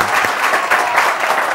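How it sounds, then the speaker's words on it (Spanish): Studio audience applause for magician Sergio Lozano on a TV show, a steady, dense clapping that holds at an even level for the whole stretch. "Sergio Lozano, aplauso para él"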